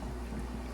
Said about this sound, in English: I hear it bubbling